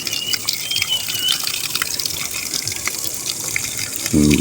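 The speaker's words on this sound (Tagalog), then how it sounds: "Lumakas na yung tubig." Water gushes steadily from a pipe while installing a bladder pressure tank with a five-way connector, a constant rushing splash, close and fairly loud, swelling stronger near the end.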